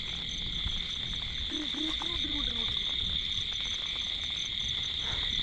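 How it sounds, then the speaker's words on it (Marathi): Crickets chirp at night in light rain, a dense, steady, high trill running throughout at moderate distance, with a few faint croaks briefly underneath. "तुम्हाला हे रातकिडे त्यांचा आवाज येतो का?"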